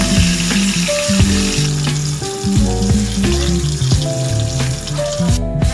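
Katla fish pieces frying in hot oil until reddish, giving a loud, dense crackling sizzle up close that runs continuously with a few faint clinks, no voices.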